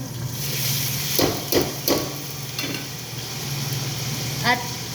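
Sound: stirring chicken with bay leaves, chili and lemon in a pot

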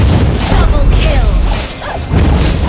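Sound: turret being destroyed in Mobile Legends video game

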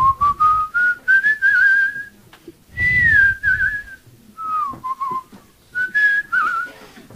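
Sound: whistling the tune Rosa Tirana

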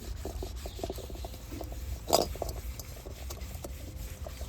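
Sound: scrubbing greasy pan (kadai) clean with lemon peel

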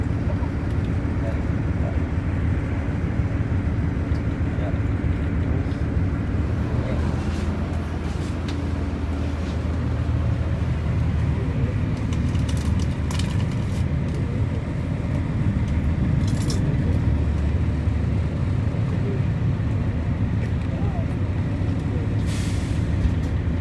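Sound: busy bus terminal ambience, Terminal Kalideres

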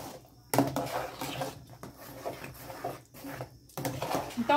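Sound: stirring corn batter in a pot

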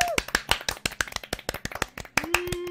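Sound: people clapping

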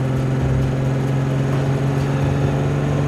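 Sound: engine of a pre-war classic convertible car pulling

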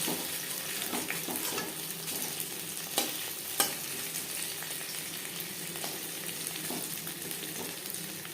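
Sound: fish frying in oil

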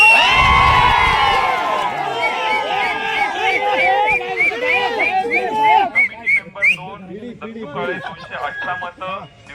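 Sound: union election supporters cheering

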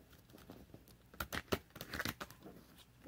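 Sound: shuffling a deck of cards

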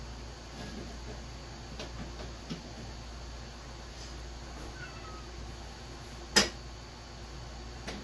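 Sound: cat meowing

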